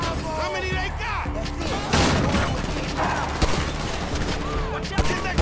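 Grand Theft Auto V shootout with dense overlapping gunfire and bursts of automatic fire, loud and close, mixed with game sounds, impacts and shouted voices.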